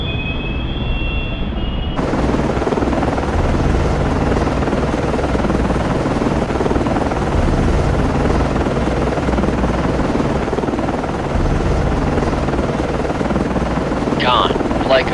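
A helicopter lands on a ship in the submarine game Cold Waters, its steady loud rotor roar filling the whole stretch after a brief quieter lead-in, with a faint radio-style voice near the end.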